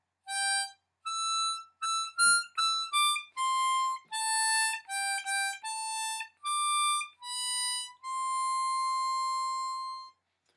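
The final line of We Wish You A Merry Christmas plays as a sequence of clear, pure single notes, short ones first and then a long held closing tone, each separated by brief gaps. The tone is cleaner than a typical harmonica.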